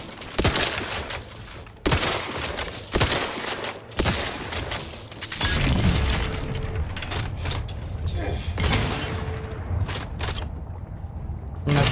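Shooting in the video game The Outer Worlds 2, with a run of loud, sharp shots at irregular intervals, then a steady churning rumble broken by further bursts, close and forceful.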